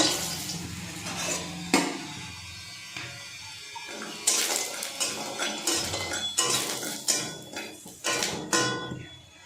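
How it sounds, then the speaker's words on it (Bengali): Lentil dumplings (bori) hit hot oil in a wok, throwing up repeated loud bursts of crackling sizzle that flare and fade, along with a few metallic clinks, close by and with no talk. "কড়াই তেল গরম করে নিয়েছি এবার আমি বড়িগুলো দিয়ে ভেজে নেব"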